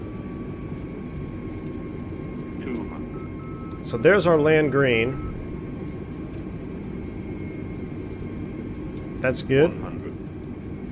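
Airbus A320neo in Microsoft Flight Simulator 2020 on approach, a steady low jet engine hum with a faint tonal whine under the cockpit, joined by short synthetic callout tones and a voice speaking briefly.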